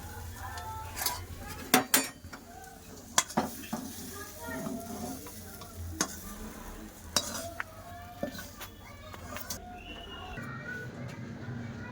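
Fried flat beans are tipped out of a pan with a spatula, producing close clatters and scrapes of metal over a low background sizzle, with a few louder knocks scattered through.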